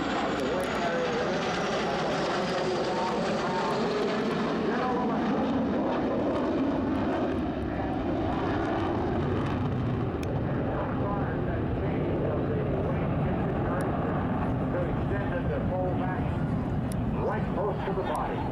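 A B-1B bomber with four jet engines passing at an airshow, a loud continuous roar that swells and slowly fades over the whole stretch, with talk over the top.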